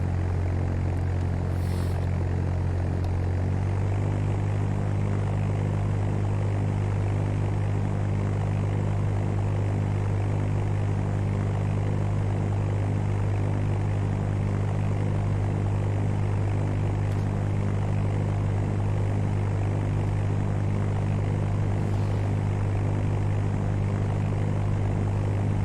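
A propeller airplane departs the runway in the Fly!2K flight simulator game, with a loud, constant droning engine hum that steps up in pitch early on and then holds steady throughout.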